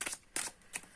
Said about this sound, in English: let me shuffle the cards once again